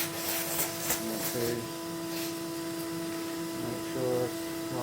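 A vacuum cleaner hoovering a brick from a Morso multi-fuel twin-door stove, a steady droning whine with scraping, rubbing bursts as the nozzle works over the brick, close and continuous without talk.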